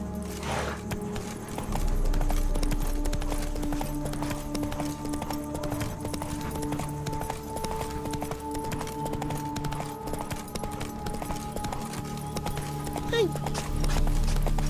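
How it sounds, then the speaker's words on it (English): Hooves clip-clop rhythmically as a horse gallops steadily in The Witcher 3, the beat continuing without a break while a voice and game music sound over it. "Run, Roach"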